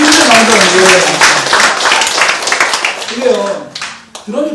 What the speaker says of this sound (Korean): 아주 크게 박수 주세요